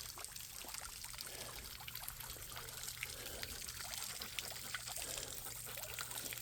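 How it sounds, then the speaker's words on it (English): Garden pond fountain in a backyard with goldfish and koi, a steady continuous trickle and splash of falling water, close and moderately loud with no talk. "Got the fountain going tonight."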